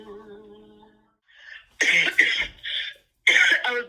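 A woman coughs and clears her throat in several loud, close bursts after a quiet stretch of sung birthday melody, with short pauses between the harsh coughs.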